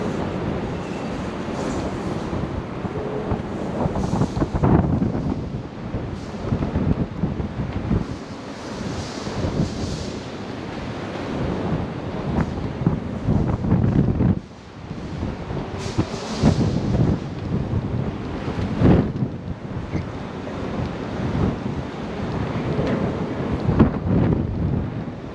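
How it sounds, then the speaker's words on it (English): High wind buffets the exposed upper floor of Fort Point, a brick coastal fort, as a loud, continuous roaring rush with gusty surges and heavy microphone buffeting throughout, no voices. "I'm going to the 4th floor where the high wind and freezing cold is."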